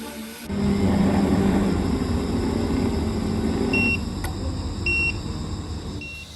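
A soy milk machine signals it has finished with three short, thin electronic beeps spaced about a second apart over a low background rumble.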